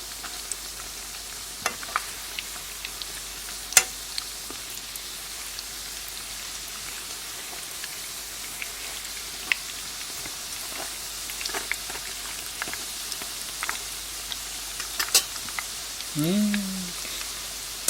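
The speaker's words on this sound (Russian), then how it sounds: "жарится первая партия, пускай жарится" Steady crackling sizzle of pirozhki frying in oil in a pan, with scattered pops and small clinks of a utensil, no talking.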